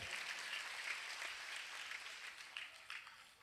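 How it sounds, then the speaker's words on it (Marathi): An audience claps together at a Shivjayanti celebration event, a dense continuous patter of many hands that thins slightly toward the end. "त्यांच्यासाठी एकदा जोरदार टाळ्या आपण वाजवायच्या आहेत."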